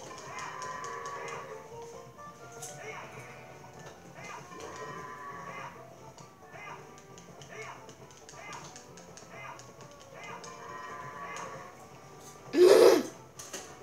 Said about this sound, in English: these goats are being so freaking difficult